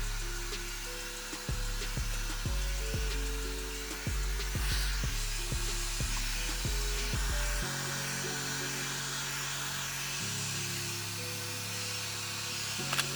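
A hair dryer fitted with a diffuser dries the roots of curly hair, a steady loud whirring drone that shifts in pitch and intensity as it is moved and switched, with brief clicks and knocks along the way.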